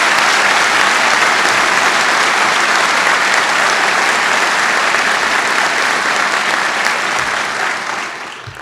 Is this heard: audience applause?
yes